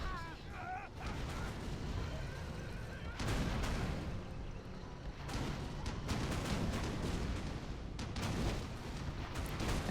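Rapid volleys of rocket buggy fire from the Command & Conquer Zero Hour game, GLA forces, with dense overlapping booms and crackling blasts running steadily throughout, loud and busy, with faint voices beneath.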